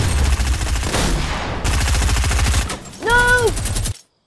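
A turret in the video game Fortnite firing: loud, rapid bursts of automatic gunfire pound close by in two long stretches, then a short whooping electronic tone before the sound cuts out.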